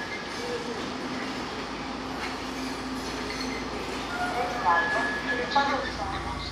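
A train in Italy rolls in along a station platform, a steady rumble with faint wheel squeals and clicks, heard over a public address announcement.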